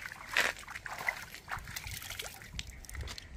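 Water sloshes and splashes in a village pond with stone steps, a close run of irregular slaps and trickles over a quiet background.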